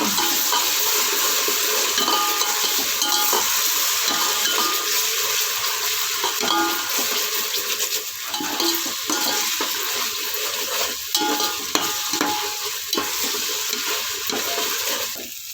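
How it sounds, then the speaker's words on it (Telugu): Ginger garlic paste sizzles steadily in oil in a pan for a vegetable biryani, a continuous close frying hiss with scattered scrapes and stirring clinks throughout, no talk. "ఇప్పుడు అల్లం వెల్లుల్లి పేస్ట్ వేసుకోవాలి పచ్చివాసన పోయేంత వరకు వేయించుకోవాలి"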